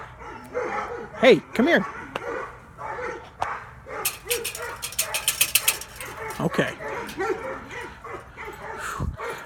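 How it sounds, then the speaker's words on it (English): Several dogs bark and yip repeatedly outdoors, with quick bursts and a whimper, mixed with a voice speaking briefly over them. "They just love to bark."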